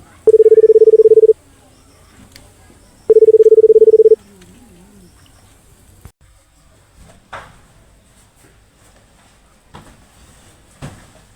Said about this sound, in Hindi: कनी भैया के फोन लगा दे